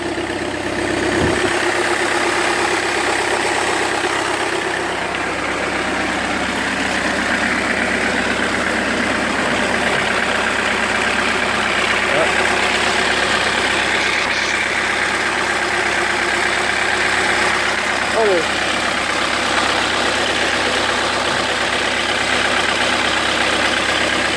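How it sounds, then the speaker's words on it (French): A 2001 Citroën Xsara 2.0 HDi diesel engine idles steadily nearby with a constant low hum and faint mechanical rattle, no voices. "Donc là on a démarré le moteur."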